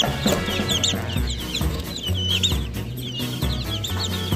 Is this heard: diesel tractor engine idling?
no